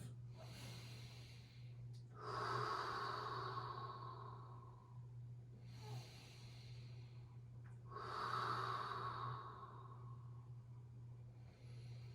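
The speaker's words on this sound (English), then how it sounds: "And then breathing, articulating it subtly, breath by breath." Slow, deep breathing during a yoga class, with two long exhalations heard close and soft, set against a steady low hum.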